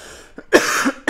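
A character in Call of Duty Black Ops 4 Blackout battle royale lets out a couple of close, harsh coughs in quick succession, loud and alone.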